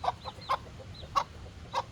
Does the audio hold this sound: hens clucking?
yes